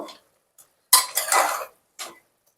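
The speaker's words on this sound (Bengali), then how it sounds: "এবার আরো একবার একটু নাড়াচাড়া করে নেব।" Mutton curry in a pot stirred with a metal spoon after resting covered: a short clink, then a louder scraping, clattering stir lasting under a second, and one last brief scrape in near-silence.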